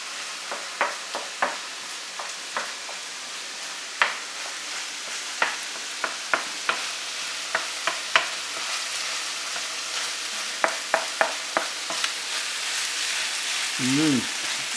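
Wild onion fried rice frying in a pan, a steady broadband sizzle broken by sharp scrapes and clicks from a utensil stirring at irregular intervals, close and moderately loud, ending with a brief tonal squeak.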